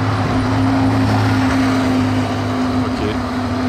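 A Porsche 911 S on a Paris street passes nearby, its engine and tire roar swelling over steady traffic noise, with no voices.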